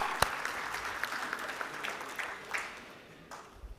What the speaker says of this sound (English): there has to be a big round of applause for our guest who came from abroad today